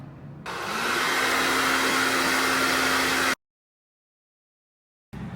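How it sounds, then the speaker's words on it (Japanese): A hair dryer blows with a steady, loud whirring roar for about three seconds, then cuts off abruptly into silence before the sound returns briefly. "やっぱりその後ドライヤーを使いました。"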